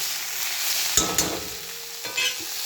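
Potatoes frying with salt in a pan give a steady close sizzle, broken by a few sharp spatula clinks and scrapes against the metal.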